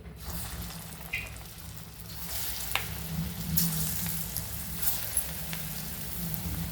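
Lentil bhaji batter frying in hot oil, a steady soft sizzle and bubbling that runs throughout with a few faint clicks, quiet and close, no talking.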